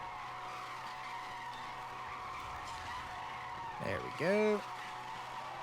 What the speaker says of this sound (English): Sorry for the tires. They like to squeal.